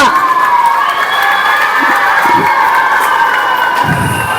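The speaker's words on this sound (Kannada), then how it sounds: "ನಿಮ್ಗೆಲ್ಲರಿಗೂ ನನ್ನ ಜೋರಾದ ಚಪ್ಪಾಳೆ ಬರಲಿ." A crowd of children and adults at a free summer camp event cheers and shouts in a loud, sustained roar, with a few claps mixed in.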